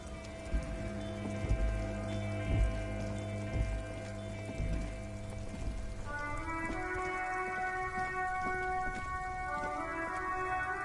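Rain patters steadily and softly on a surface while traffic sits stalled in a jam, a faint even wash with some low tonal hum and a few soft knocks, no voices.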